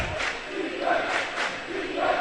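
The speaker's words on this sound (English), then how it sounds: "Crowd chanting defense." A basketball crowd in a student section chants in rhythmic waves at a high school game, several loud swelling cries repeating across a continuous arena roar.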